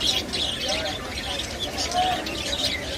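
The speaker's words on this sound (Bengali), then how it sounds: "জাবার একটি কলোনি দেখতে পাচ্ছি আমরা" Java sparrows chirp among many caged birds at a bustling bird market in Bangladesh, a dense chatter of tweets over steady crowd murmur with voices talking nearby.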